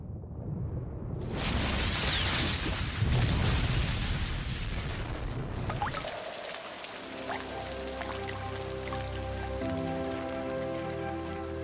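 Heavy rain from a thunderstorm pours down steadily and loud. Partway through, the steady wash gives way to sharper dripping and splashing on a surface.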